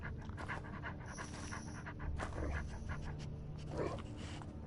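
A dog companion in a video game panting steadily in quick, breathy rhythm, close and fairly soft, with a few faint whimpery yips near the end amid low game ambience.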